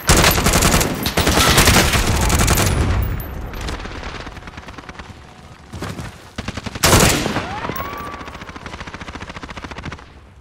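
Bursts of loud automatic gunfire with rapid shots and a shotgun blast ring out in Call of Duty Warzone, with dense volleys at the start and again near the end and quieter gaps between.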